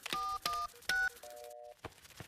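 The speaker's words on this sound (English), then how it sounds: "I'll ring for more elves. Oh, where can I get a signal on my phone?" Mobile phone dialing in the cartoon Ben and Holly's Little Kingdom: a quick series of distinct electronic keypad beeps, several short tones followed by a longer held tone and a couple of soft clicks.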